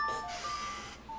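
A short, bright ocarina melody, a few sustained flute-like tones moving up and down without any talking.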